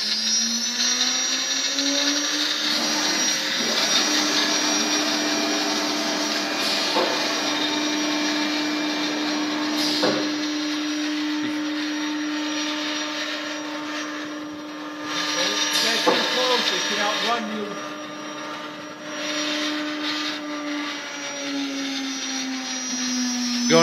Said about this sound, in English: Turned on spindle number one over here.